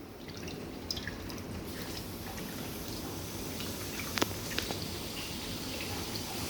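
Soaked tamarind water poured into avarai kootu with toor dal makes a continuous wet trickle with a few distinct drips, moderately quiet and close.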